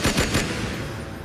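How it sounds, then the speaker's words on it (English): Three rapid gunshots ring out close together during a confrontation in a parking lot, loud and sharp, followed by a fading echo with no talking. "In this parking lot, there was a confrontation, a scuffle, then gunshots."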